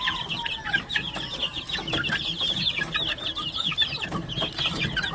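Chickens cluck steadily on a Hawaii farm, close and moderately loud, with overlapping busy calls from several birds and no talk.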